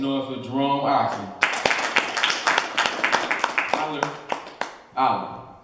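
A talking voice gives way to a burst of clapping and cheers from an audience at an MMA press conference, the applause fading out before the voice resumes.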